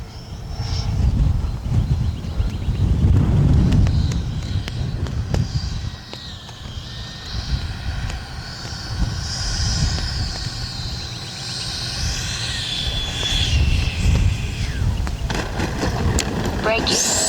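A Freewing Avanti S V2 RC jet flies past during a landing approach with gear and flaps down, its turbine-like whoosh rising and falling with distance while someone talks over it.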